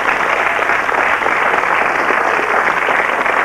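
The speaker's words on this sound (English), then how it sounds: "give them another round of applause" Studio audience on the 1992 UK game show Blockbusters applauding, a dense, steady wash of clapping at full level that holds unbroken for the whole stretch with no voices over it.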